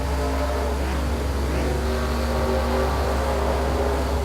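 Race cars in a sim-racing league event at Mosport, driving toward the start-finish line, give a steady, loud engine drone that fills the whole stretch with no talking.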